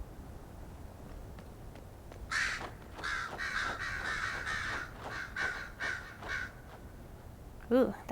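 Crow cawing repeatedly in Dragon Age: Inquisition, a run of harsh calls at moderate distance over a low ambient game backdrop, with a brief sharper burst near the end.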